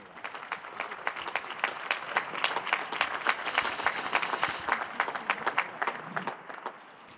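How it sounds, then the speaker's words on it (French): Crowd applause at a papal general audience, dense rapid clapping from a large gathering that swells, holds for several seconds and then fades toward the end. "Je vous demande de l'applaudir."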